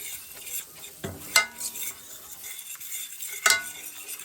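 Fork stirring flour into a bubbling roux in a pan, soft scraping with a few sharp metallic clinks against the pan over faint sizzling.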